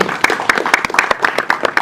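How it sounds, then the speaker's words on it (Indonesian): A crowd applauding steadily, with brisk overlapping claps throughout. "Wow, tepuk tangan sekali lagi."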